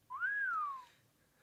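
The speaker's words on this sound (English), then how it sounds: "wasn't expecting an actual whistle" A character in the video game Fate Grand Order lets out a single clear whistle that rises and then slides down, close and alone over near silence.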